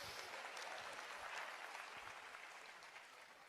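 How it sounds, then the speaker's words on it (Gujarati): Steady applause from an audience fills a programme hall for a doctor, a dense wash of many hands clapping that stays fairly even and faint in level throughout. "એટલે ડોક્ટરને તાળીઓથી વધાવો,"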